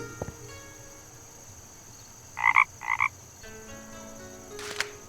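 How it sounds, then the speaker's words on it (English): A frog croaks twice in quick succession in The Night of the Rabbit video game, the two short croaks clear over a quiet, ambient backdrop. "Is that a frog I hear?"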